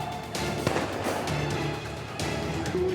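Firecrackers bursting amid a student clash on a university campus in Makassar, a dense crackle of sharp pops with a few louder bangs, heard continuously over crowd noise outdoors.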